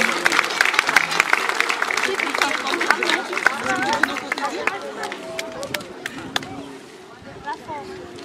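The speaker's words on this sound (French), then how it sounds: "Sous vos applaudissements, s'il vous plaît, Madame Amassi Lucelle." Audience applause at a July 14 medal ceremony in Trois-Bassins, steady clapping from a nearby crowd with scattered voices and chatter, tapering off toward the end.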